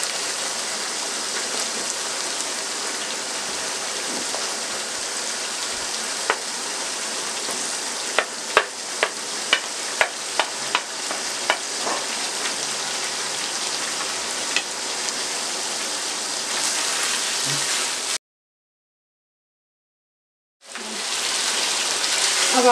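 Chicken and small vegetable pieces fry in oil with a dense, even sizzle like heavy rain, scattered crackling pops, and a brief total silence before the hiss resumes.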